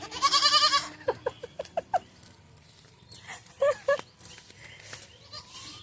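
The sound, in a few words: goat bleating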